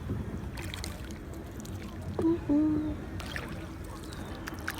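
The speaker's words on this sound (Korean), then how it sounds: "인당 100루피짜리 보트를 즐겼습니다" Small boat on a lake in Nepal with a steady low rumble of water and wind, a brief splash or knock near the middle, and faint voices in the background.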